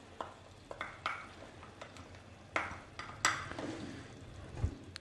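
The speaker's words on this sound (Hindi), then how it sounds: "इसको मिक्स कीजिए" Spoon stirring a paste of almond, sesame, poppy seed and yogurt into chickpea curry in a pot, scattered clinks and scrapes against the pan with a faint wet sizzle, no talking.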